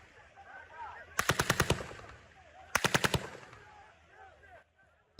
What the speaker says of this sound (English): they could identify live ammunition, including machine gunfire, coming from the sites